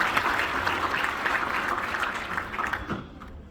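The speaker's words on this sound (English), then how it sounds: "Let's give Layla one more big round of applause just to make sure they're back to the seat." Audience applause after a magic act at a variety show, a dense steady wash of many clapping hands that thins and fades toward the end.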